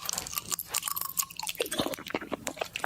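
Someone chews crunchy honeycomb candy up close, with a run of sharp, irregular crunches and bites filling the moment, no talk over it.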